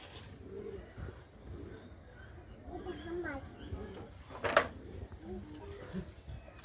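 Three pigeons, two of the Andhra line and one Aplook, give soft intermittent coos close by, under a voice and quiet background noise, with a brief louder clatter near the end.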